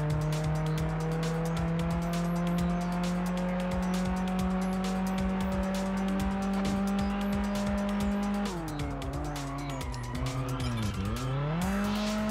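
A car spinning out in Test Drive Unlimited on PS2, a steady engine drone suddenly dropping into wavering pitch and a squealing tire slide over the last few seconds.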